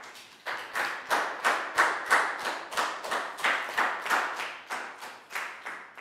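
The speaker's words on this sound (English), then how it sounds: "a big round of applause for Dan" A Year 4 maths class claps for a student in a steady, rhythmic unison beat of about sixteen sharp, close bursts, evenly spaced with no talking.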